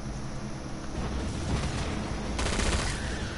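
Gunfire in Killing Floor 2, a dense, continuous clatter of shooting over a rumbling background, swelling louder toward the end with no pauses.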